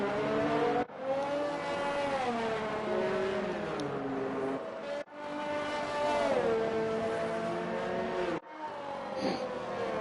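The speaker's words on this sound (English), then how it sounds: "I can confirm we have some engine and car noise" A steady, continuous engine drone from F1 race cars in a Monaco video game race, holding a sustained pitch that dips and swells, with two brief cuts in the sound.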